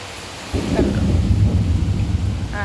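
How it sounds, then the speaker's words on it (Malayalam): A deep rumble of thunder rolls in suddenly and lingers, with rain pattering steadily underneath. "ഇടിയൊക്കെ ഉണ്ട് കേട്ടോ"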